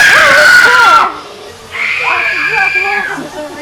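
Screaming inside the Factory of Fear horror game: a loud, high wailing cry fills the first second, then breaks off and returns as a strained, wavering voice over a hissy background.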